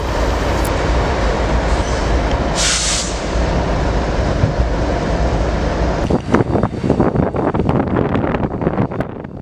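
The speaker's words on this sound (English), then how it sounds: "Now with our train quickly moving by, we can see the tail end" A passing train rumbles loudly by the trackside on the Alvin Y and McCowell subdivision, a broad steady roar with wind buffeting, then a burst of rhythmic clacking as the tail end goes past, with no talk.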